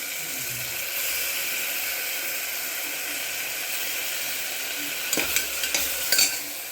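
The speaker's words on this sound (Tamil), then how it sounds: "தக்காளி வதங்கின பிறகு கொஞ்சம் இஞ்சி பூண்டு பேஸ்ட் போட்டுக்கலாம்." Ginger garlic paste fries with sautéed tomatoes in a pan, a steady loud sizzle and hiss throughout, joined near the end by a few scraping, clattering stirs of a spoon, close up with no speech.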